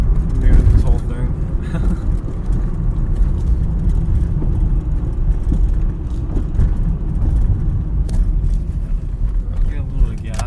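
A Mazda Protege5 engine runs with a steady low rumble and an odd irregular noise, fairly loud and continuous, with some wind buffeting on the microphone.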